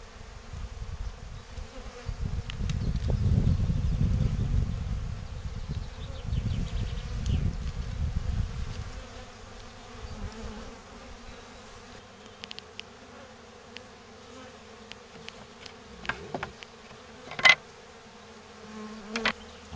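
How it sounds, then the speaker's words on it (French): Black honeybees at an open Layens hive buzz in a dense, close drone that swells loudly for several seconds and then thins to a softer hum with scattered clicks and taps. "en majorité, là, c'est de l'abeille noire"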